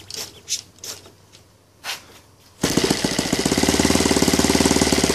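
A Saito FG-20 gas model engine converted to CH ignition with a Zama carburetor; a few faint clicks and pulls come first, then it fires and settles into a loud, steady rapid running beat.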